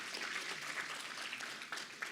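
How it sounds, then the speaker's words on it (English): Faint, distant applause from a conference audience for a panelist at a local government conference, a soft continuous patter of clapping heard at low level. "Can we give him a round of applause, please?"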